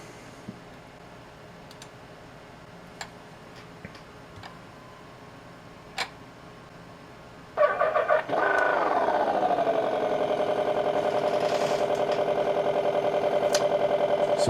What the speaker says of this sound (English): So we'll go ahead and start up the engine.